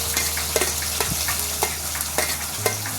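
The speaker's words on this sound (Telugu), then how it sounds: "ఉల్లిపాయ పచ్చిమిరకాయ కోసేసుకొని పక్కన పెట్టుకున్నాం కదా, అవి వేసేసుకుందాం" Chopped onions and green chillies fry in hot tempering oil for a cabbage fry. A continuous sizzle is broken every half-second or so by sharp scrapes and clinks of stirring.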